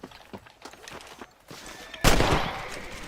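Gunfire in Red Dead Redemption while shooting rabbits: several sharp shots, then a louder close blast that rings out at the end, over low background noise.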